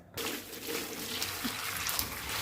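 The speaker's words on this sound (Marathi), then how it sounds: "आता याच्यामध्ये आपण असं उकळलेलं पाणी टाकणार आहे" Boiled water is poured steadily into a vessel close by, a continuous soft gushing and splashing that stays even throughout.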